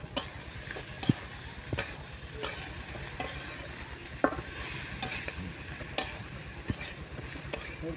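Masoor lentils fry in a pan with onion, garlic, chili, oil, salt and cumin while a spatula stirs them. Soft, continuous sizzling is broken by regular clicks and scrapes against the pan, with no voices.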